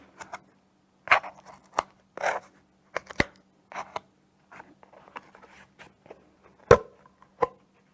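Threads and tape being pulled and torn off a weaving hoop while making a Phrygian rug, heard as a string of sharp, close crackling snips and rips with short pauses between them, no voices.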